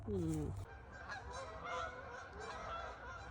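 Geese honk loudly several times at the start, then fainter honks continue overhead against a soft outdoor background.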